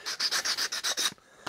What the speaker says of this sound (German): Ich schleife jetzt wirklich nur erstmal den Lack hier runter